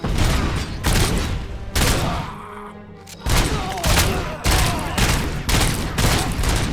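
Heavy weapon fire in the PC game RoboCop: Rogue City, with gunfire and bazooka shots: loud, booming bursts repeat in quick succession, broken once by a short lull before the barrage resumes.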